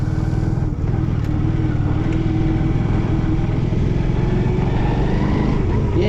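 An off-road motorcycle drones loud and close on a meadow, its engine running steadily throughout as it rides and turns.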